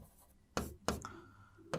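Chalk or marker writing on a board during a logic lecture: quiet scratchy strokes with a few sharp taps and short scrapes, close by and alone.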